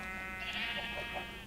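A sheep in Minecraft lets out a single wavering bleat, faint against a steady tonal game background.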